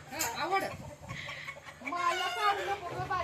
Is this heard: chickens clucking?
yes